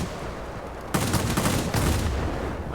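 Wing-mounted guns of a Ki-94-I fighter in World of Warplanes fire in a sustained, dense rattling stream. The burst grows louder after a brief lead-in, with no talking.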